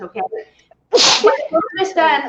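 A single sharp sneeze bursts out in the middle of a man's speech, loud and close, with talking just before and after it.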